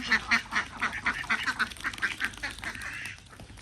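Ducks quacking in a rapid, busy chorus, many calls overlapping close by with hardly a pause.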